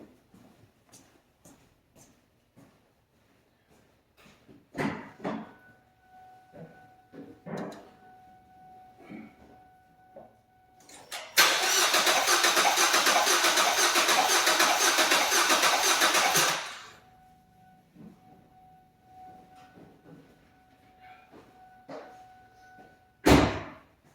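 A car engine cranks over with one spark plug removed, leaving one cylinder with no compression: a loud, steady churning run of about five seconds, set between quiet clicks and shuffling, with a sharp knock at the end.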